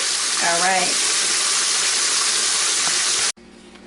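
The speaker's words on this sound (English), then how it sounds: "I'm gonna go ahead and let all my chicken fry up" Oil sizzles and crackles steadily close by as chicken fries, with a brief watery swish early on, then the sound cuts off abruptly near the end.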